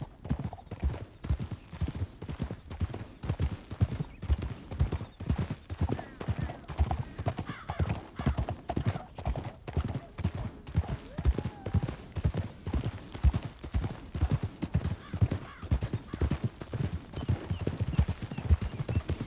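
Steady, rhythmic clip-clop of horse hooves trotting throughout in the video game Red Dead Redemption 2, close and even, with occasional faint background voices.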